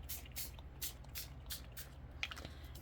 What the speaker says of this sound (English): let's spray some inks on here.